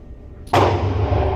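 A single Springfield Armory Echelon pistol shot fired at a target 30 feet away, a sudden loud crack followed by a short booming tail.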